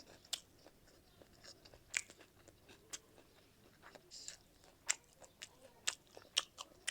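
Someone chews a mouthful of Singapore fried rice up close, with soft wet munching and scattered crisp clicks in an uneven rhythm over a quiet background.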